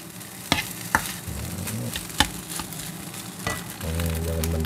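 Egg fried rice sizzles in a pan with a steady hiss, punctuated by several sharp clacks and scrapes of stirring against the metal. A voice begins speaking at the very end.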